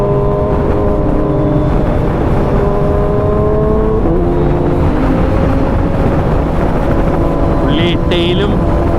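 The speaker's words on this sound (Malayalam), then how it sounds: "ഇവിടെ ഇതാ വേറൊരു Gen 3 ബൂസ ഉണ്ട്. ഫുള്ളി എക്സോസ്റ്റ് ഒക്കെ മാറ്റി ട്യൂൺ ചെയ്തിട്ടുണ്ടെന്നാണ് പറഞ്ഞത്." A tuned Suzuki Hayabusa Gen 3 motorcycle with a full aftermarket single underbelly exhaust runs with a steady, loud, rumbling engine note throughout, and voices are faintly audible in the background.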